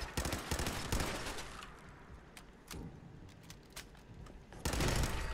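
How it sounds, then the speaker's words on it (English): Automatic turret fire in the Fallout 4 video game: bursts of rapid gunshots open and close the passage, with scattered single shots in between, loud and close, no talking. "you can shoot me from up here"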